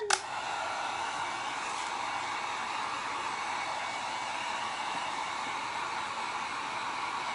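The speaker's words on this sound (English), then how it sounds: "now let me just put the hot gun on this for 1 second" A heat gun blows steadily on a painted sign, giving a continuous broadband airy hiss from start to finish with a brief click as it switches on.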